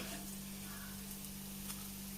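Fennel seeds and black pepper fry in a pan, a steady, soft sizzle that holds evenly for a couple of seconds with no talk over it.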